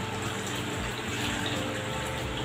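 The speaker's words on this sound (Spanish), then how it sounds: "entonces pues vamos por el agua para ponérsela" Water pours steadily into a pan to make a water bath for crème brûlée, a continuous close gushing stream with no talk over it.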